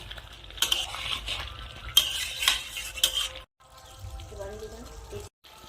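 Desi chicken being stirred and braised in a pan, with the spoon scraping and clinking in irregular bursts over a soft sizzle, then a quieter stretch of faint frying.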